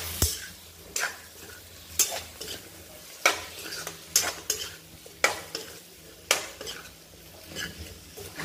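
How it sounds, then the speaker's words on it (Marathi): Yogurt stirred into a frying tomato and potato masala for soya pulao, with a spoon scraping the pan in about nine regular, close strokes over a low sizzle, no talk. "तर व्यवस्थित दही सुद्धा मिक्स करून घ्यायचं"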